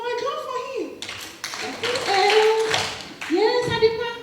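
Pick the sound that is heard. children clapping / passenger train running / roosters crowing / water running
children clapping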